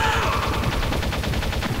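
Rapid automatic gunfire in the video game Metal Gear Solid, a loud, continuous stream of evenly spaced shots rattling without pause, with no talk over it.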